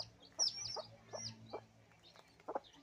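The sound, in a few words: hen clucking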